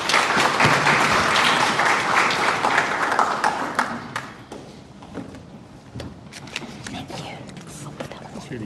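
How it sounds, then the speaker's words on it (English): Loud, dense audience applause at a Greater Cumberland Chamber of Commerce session on government tenders, clapping for three speakers, strongest for the first four seconds and then thinning into scattered claps with a few thumps. "Can I have another round of applause for all our 3 speakers, Sarah, Rana, and Raquel?"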